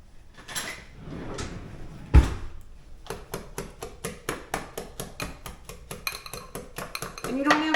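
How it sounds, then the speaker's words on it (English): Muffin batter with applesauce being mixed in a bowl: steady, rhythmic clinks of a utensil against the bowl, close and fairly quiet, after an opening knock and rustle, no voices. "so now we're going to mix those up"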